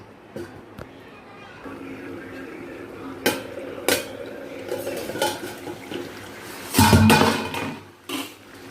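A lid goes onto a pot of crab curry on the stove, giving a loud metallic clatter among scattered clinks and scrapes of kitchen utensils against a low background hum.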